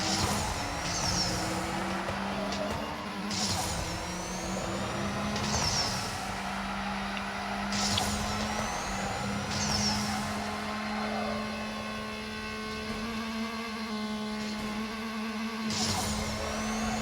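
A Lotus Emira launches in the racing game Need for Speed No Limits, its engine roaring loud and steady as it climbs through repeated rising gear shifts, with no talking.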